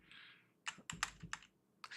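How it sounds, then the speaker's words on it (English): A few sharp clicks of arrow keys pressed on a computer keyboard during laser and CNC design software work, arriving in a quick irregular burst, then one more tap after a pause, close and fairly quiet. "I'm going to use the arrow keys on my keyboard just to bring that over"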